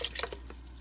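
Cold water poured back into a cooking pot, heard as a few quick, quiet splashes and drips close by, fading to a low hum with no talking.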